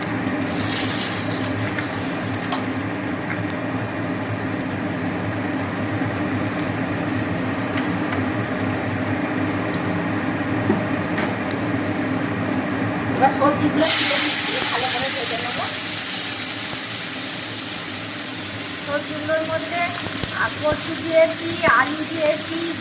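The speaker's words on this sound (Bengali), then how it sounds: "ফোড়ন মানে পাঁচ ফোড়ন আর তেজপাতা শুকনো লঙ্কা হবে আমি একবারই দিয়ে ভেজে নেবো সবজি" Vegetables frying with panch phoron, bay leaf and dried chilli, a continuous hissing sizzle that swells louder partway through, with a voice talking over it.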